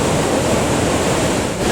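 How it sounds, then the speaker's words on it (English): Iguazu Falls at the Devil's Throat on the Argentina-Brazil border, a massive waterfall roaring as a loud, constant wash of rushing water, with no voices over it. "If you were to design the perfect waterfall, then Iguazu would be it."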